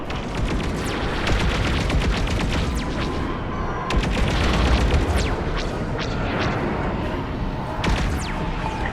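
Repeated blasts of starfighter weapons fire and explosions hammer a comsat in Star Wars: Squadrons, arriving as loud, dense bursts of sharp cracks and rumbling booms over a constant roar.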